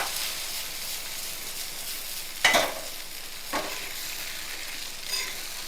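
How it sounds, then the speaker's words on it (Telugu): Green chillies and gravy frying in a pan for black pepper egg curry, a soft continuous sizzle with one clear spatula scrape midway and a couple of lighter stirs, close but fairly quiet, no voices. "ఇంకొక నిమిషం వేగాలన్నమాట"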